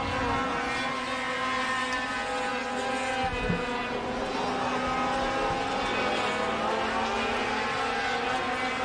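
Sport trucks race around a Wisconsin oval track, a dense, steady engine drone from several vehicles heard from some distance, with a commentator talking over it.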